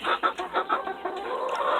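Several chickens cluck in a backyard coop, with close, busy and rhythmic calls in quick succession at moderate loudness and no talk.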